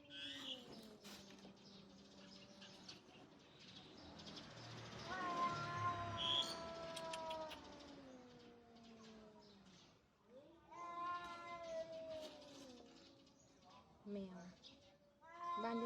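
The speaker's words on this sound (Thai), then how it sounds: "อ้าวแมวมาร้องอะไรตรงนี้ หนูแมวมาร้อง ร้องเฉยเลย" A cat meows close by, repeatedly and insistently, in a home garden where shallots and coriander grow in seedling trays. It gives several drawn-out cries with short pauses between them.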